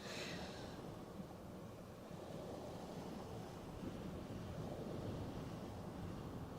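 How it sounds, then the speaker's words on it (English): Steady outdoor wind roars across the open microphone beside the Westerschelde estuary in the Netherlands, a constant broadband rush with faint water wash underneath, no talking. "Wind seems to be picking up a bit again."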